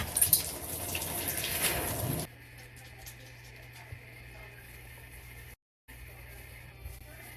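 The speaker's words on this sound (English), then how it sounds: "This is what I like to do in the shower." Shower water runs loudly while hair is washed, then drops to a quieter, steady trickle with a brief gap near the end.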